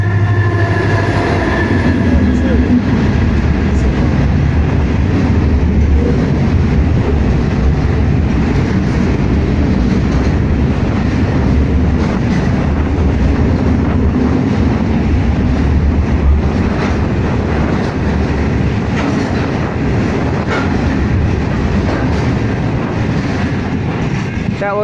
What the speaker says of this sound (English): This is the freighter from warranbool.